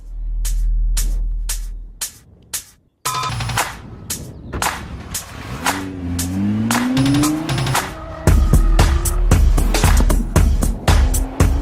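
A Nissan JukeR and a 2012 Nissan GT-R driven hard on a race track: loud engine revs and pitch sweeps, rapid gear-change pops and crackles, and the engine roaring again near the end.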